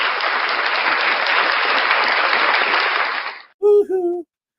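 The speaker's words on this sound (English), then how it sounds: "Round of applause for Blackheart Knight." A short burst of dense applause for Blackheart Knight, steady for about three seconds and then cutting off abruptly, followed by a brief voice.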